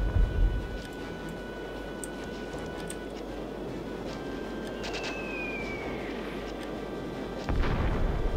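Artillery fire in the Warhammer: Dark Omen strategy game at Axebite Pass, a low rumbling barrage with scattered sharp reports and a faint whistling streak, ending in a heavier thud near the close.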